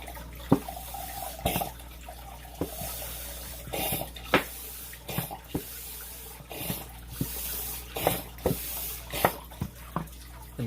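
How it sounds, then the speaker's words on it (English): Water pours from a squeezed plastic gallon jug into a cup, a close trickling splash punctuated by sharp, irregular crinkling pops of the flexing plastic. "that sound you hear is me like squeezing my gallon of water"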